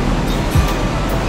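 Steady broadband wash of water rushing continuously, like a nearby stream or surf, at a camp in West Suriname, with no voices over it.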